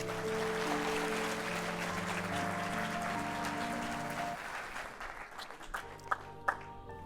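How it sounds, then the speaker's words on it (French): An audience of about a thousand claps together for roughly four seconds under a steady musical drone, then the applause thins out and a few isolated sounds poke through the quiet. "on peut s'applaudir tous ensemble"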